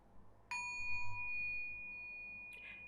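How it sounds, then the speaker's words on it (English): A mindfulness bell struck once during a meditation session: a clear, sustained ringing tone with a soft hum that fades slowly, then a second lighter touch near the end, quiet and alone. "And now with the bell being rung, you come back to the moment where you practice listening"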